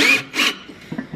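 A countersink bit scrapes powder coat off a part in two quick close rasping strokes, followed by a few faint soft knocks.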